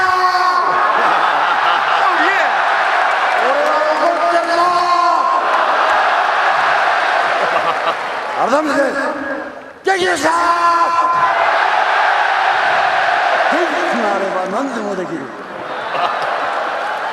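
An arena crowd at the Pride Shockwave 2002 fight event in Japan cheers for Inoki, a loud, sustained roar with yells and whoops rising and dipping under commentators' talk.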